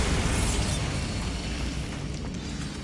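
Bombarda blasting spell in a wizard video game, a dense, loud, rumbling roar that fills the clip continuously and slowly eases off, with no voices.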